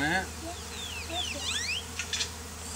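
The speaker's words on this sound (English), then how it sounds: "Then I saw the queen bee. No, it's just a big boy drone." Honey bees buzz and whine close by during removal of a hive from a planter, a busy drone of wingbeats rising and falling with short rustles, while a person speaks briefly over it.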